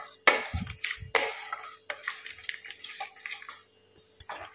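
A spoon stirs a cashew and curd paste into egg curry in a pan with the heat off, producing a few sharp metallic clinks and scrapes spaced irregularly against otherwise quiet surroundings.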